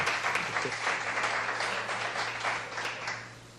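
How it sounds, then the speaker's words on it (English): Steady audience applause at a live show, dense clapping sustained throughout at moderate volume with no talk over it, tapering only slightly toward the end. "big round of applause"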